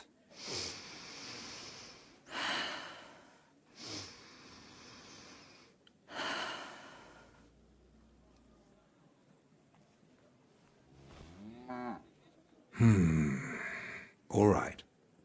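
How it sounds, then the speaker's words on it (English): A character in the video game Kingdom Come: Deliverance 2 takes several slow, deep breaths, each inhale and exhale a soft, breathy rush separated by quiet pauses, ending with a few sharper, louder gasps near the close. "Take a deep breath."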